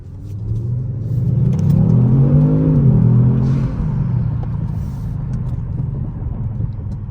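A Kia Stinger GT accelerates through traffic, its engine rising in a loud mid-pitched rev over a couple of seconds and then settling into a steady road rumble, heard from inside the car.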